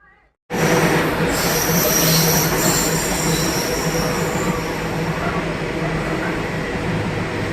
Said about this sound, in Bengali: ফাইনালি ট্রেন আইলো।